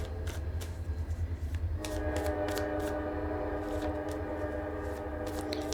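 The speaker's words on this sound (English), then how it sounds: "hello, train." A train outside sounds a sustained, steady horn that sets in partway through and holds to the end, heard at a moderate distance over a low rumble and light clatter.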